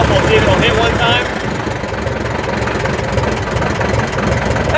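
A 1939 airplane engine idles roughly and steadily, a loud low rumble with uneven knocking pulses throughout, while a voice speaks briefly over it near the start.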